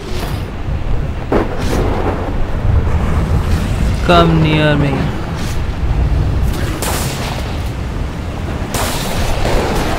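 Stormy weather in The Cycle video game: a loud, continuous roar of wind and rumbling gusts fills the whole stretch, with a brief voice speaking over it partway through.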